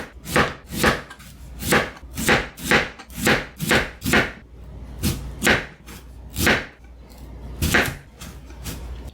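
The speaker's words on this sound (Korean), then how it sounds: "약간 넓적하게 썰어줍니다" Repeated crisp knife chops through firm sweet potato onto a cutting board, about a dozen evenly spaced strokes, close and clear with no talking.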